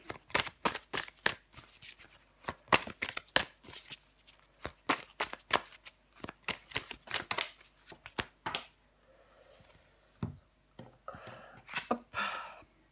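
Tarot cards shuffled for a reading, a rapid series of close, crisp riffling slaps in uneven bursts, pausing briefly before a few softer flicks and handling sounds.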